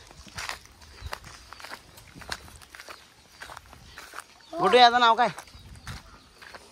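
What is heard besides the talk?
bullock cart hooves walking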